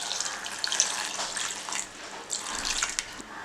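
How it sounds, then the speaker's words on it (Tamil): Water pours into a pot for bitter gourd soup, a bright splashing rush that rises and falls in short surges, close up with no voices. "இதுக்கு தேவையான தண்ணி வந்து நம்ம ஊற்றிக்கலாம்"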